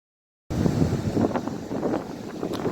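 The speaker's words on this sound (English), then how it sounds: "Wind." Wind gusting across an open boat during a fishing trip after a tropical storm, a steady broadband rush that swells and eases without pause after a brief silent start.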